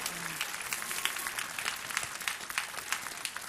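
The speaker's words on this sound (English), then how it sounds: "How about a round of applause for the Lancer Dancers?" A gala audience gives a round of applause for a dance troupe, the Lancer Dancers, with steady, fairly distant crowd clapping and a few cheers mixed in.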